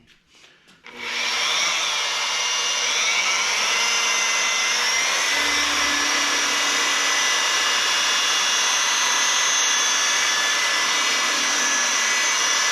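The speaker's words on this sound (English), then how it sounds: "I found with these smaller pads, I go a little bit more RPM." A rotary polisher with a small pad buffs the paint of a Bandit Trans Am, a steady close whirring drone with a high tonal whine that climbs slightly in pitch as the speed increases, with no voices.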